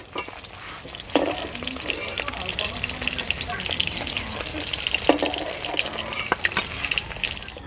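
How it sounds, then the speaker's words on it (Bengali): Crisp-fried rui fish sizzles steadily in hot oil in a village kitchen, with close scraping and stirring clatter and a short watery splash over the continuous frying hiss. "মাছগুলো কড়া করে ভেজে নিয়েছি"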